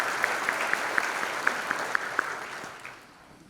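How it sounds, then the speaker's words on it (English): Audience applause at an amusement industry Hall of Fame induction, a broad wash of clapping with a few sharp nearby claps standing out, tapering off toward the end. "A round of applause for the people of the IAAPA."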